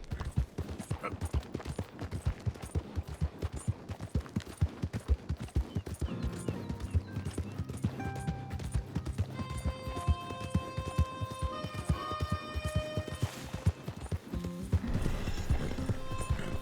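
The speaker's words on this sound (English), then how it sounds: "All I did was mount my horse" A horse in the Red Dead Redemption 2 game gallops with rapid, rhythmic hoofbeats that pound throughout. A whinny rises partway through, with music swelling in behind the hooves.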